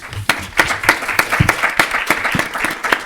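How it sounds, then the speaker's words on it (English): Conference audience applauding at the close of a two-day event, a dense crowd of hand claps with sharp individual claps rising out of the steady patter, continuing strongly throughout. "I will give you them another round of applause."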